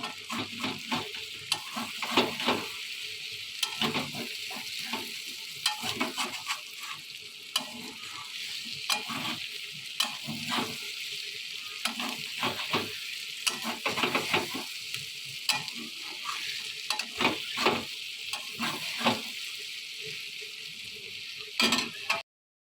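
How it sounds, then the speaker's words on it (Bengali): Cashews and raisins fry together in a pan for fried rice, a steady crackling sizzle with rhythmic spoon scrapes and taps against the pan repeating throughout, close up and without any talking. "এই যে বন্ধুরা, কিশমিশ কটাও আমি এর মধ্যে অ্যাড করে দিলাম। একই সাথে সব কটা ফ্রাই করে নেব।"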